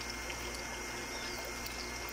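Water flowing back through the return of a hydroponic pyramid irrigation system, a steady continuous trickling rush that stays even throughout with no talk over it.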